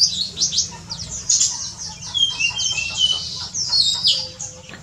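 Indonesian white-eyes (pleci) chirp busily while bathing together in a shallow river, with dense overlapping high twitters and tweets close by, continuous throughout, over a soft low background murmur.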